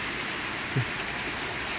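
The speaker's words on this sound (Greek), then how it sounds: "Αρχίζει να πιάνει αξιόλογη καταιγίδα αυτή τη στιγμή." Heavy thunderstorm rain in Athens, a steady, close hiss of falling water with one faint thump partway through and no voices.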